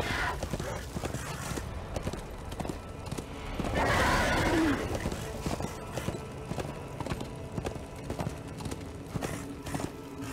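A horse in the video game Darksiders II gives a loud whinny partway through, over a steady run of clip-clopping hooves and a dense game soundscape.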